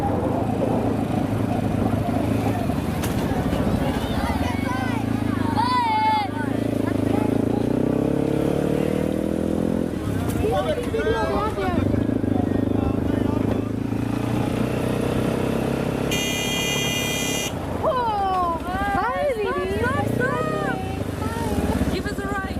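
A motorcycle hums steadily on a road in Pakistan, heading toward Kasur from the Wagah border area. Continuous engine and wind noise runs throughout, with voices talking over the ride.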